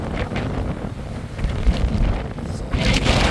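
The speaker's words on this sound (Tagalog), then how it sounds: "Grabe yung alon, ang laki." Large ocean waves surge and break in a steady, loud roar, buffeted throughout by heavy wind noise on the microphone, with a bigger wash of surf swelling toward the end.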